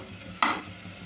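Curry masala stir-fried in oil for a green peas curry, giving a single brief scrape and sizzle burst near the middle over a low, steady frying hiss.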